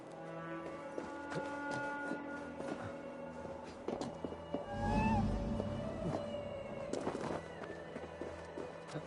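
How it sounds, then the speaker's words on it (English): Meows from a little cat in Assassin's Creed Valhalla rise over a busy in-game ambience of low rumbles and scattered clicks, with one clearer cry in the middle as a deep thump swells beneath it. "Who put you up here, little cat?"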